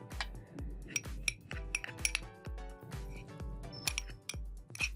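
A spoon mixes aloe vera gel in a bowl, giving a steady series of quiet metallic clinks and taps against the bowl in an even stirring rhythm.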